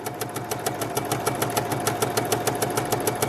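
A sewing machine stitching along a line on a quilted Dresden plate table runner, a fast, even mechanical chatter of needle strokes with a steady motor hum, close and alone.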